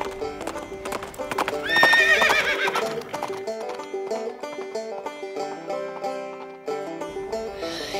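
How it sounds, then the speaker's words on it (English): Rhythmic clip-clop of a farm horse's hooves trotting steadily around the yard, with a whinny near the start, set against a musical background. "The farmer's horse is trotting around the yard."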